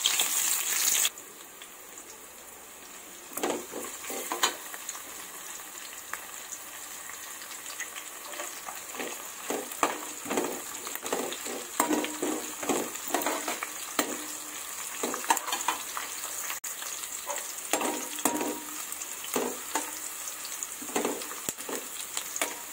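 Sliced onions frying in hot oil for fish biryani, a steady sizzle with repeated scraping stirs of a spoon through the pan, close and fairly loud with no talking.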